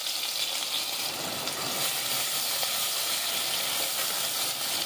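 Onions sizzle steadily in hot oil in a pot, a dense continuous frying hiss that stays even and close throughout with no talking.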